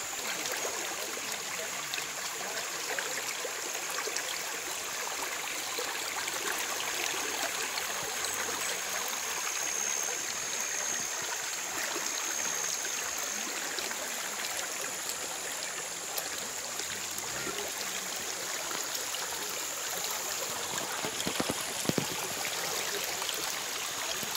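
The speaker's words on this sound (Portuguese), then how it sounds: "muita água" High water rushes along a river near Condeúba, a steady dense broadband flow that stays close and constant throughout, with no talk.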